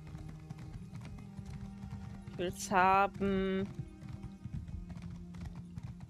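Steady clip-clop of horse hooves in the video game Elder Scrolls Online, a constant trotting beat with someone briefly speaking over it midway.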